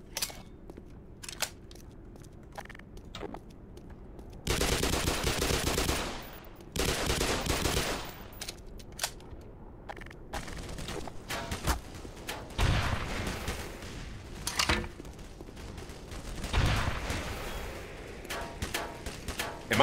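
Automatic gunfire from an APC in the PC game Black Mesa, loud bursts of rapid shots recurring across the clip amid other combat noise, no talking.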